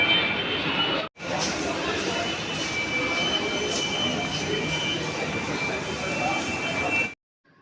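A metro train carriage rolls along with a continuous, loud, broadband rumble and rush of wheels and air, cutting out briefly near the start and ending abruptly.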